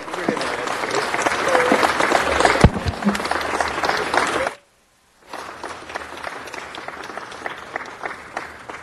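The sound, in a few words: applause at a city council meeting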